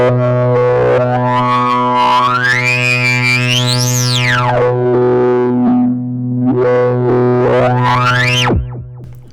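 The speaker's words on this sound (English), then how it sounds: "This thing gets super dirty, especially if you turn up the drive." An IK UNO synth with its drive turned up plays dirty, heavily distorted tones that sweep up and down in pitch over a steady buzzing drone, loud and continuous.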